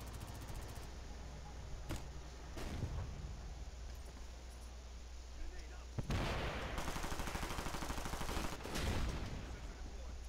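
Gunfire in the video game Tom Clancy's Ghost Recon Future Soldier, bursts of automatic fire and sharp shots cracking at intervals, with heavier volleys toward the end and a voice talking in between.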